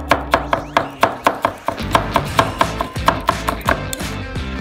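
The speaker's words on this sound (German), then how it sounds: "Chilischote. Sie sollte ebenfalls fein gehackt werden." A knife finely chops a chili pepper on a cutting board for a pizza, giving rapid, evenly spaced sharp taps, close and loud, with no talk.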